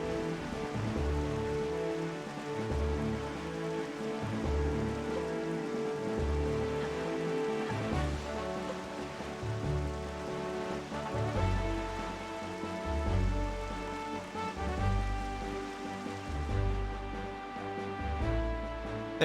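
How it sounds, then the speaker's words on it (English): Rain falling in the video game The Wind Waker, a steady patter running continuously alongside the game's melodic music, with no talking. "That rain had me worried for a second"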